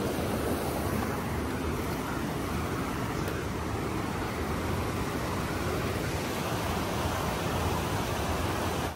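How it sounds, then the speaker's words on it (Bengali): Loud, steady broadband rush of river water churning where the flow turns and pours through a narrow spot on a mountain stream in East Sikkim, continuous with no breaks and no voices. "এই জলটা ঘুরে ওদিক দিয়ে বেরোচ্ছে, এই জায়গা দিয়ে বেরোচ্ছে, এর জন্য জলের আওয়াজটা পাওয়া যায়"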